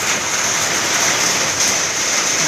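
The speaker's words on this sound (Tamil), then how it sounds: "மழை தூத்தல் ஆரம்பிச்சிருக்கு" Light summer rain drizzles after a hot afternoon, a steady, fairly loud hiss of drops pattering on surfaces with no voices.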